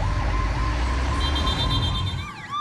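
An ambulance siren wails steadily at the scene of a bomb explosion, loud and continuous over low rumbling traffic, with a second higher warbling tone joining near the end.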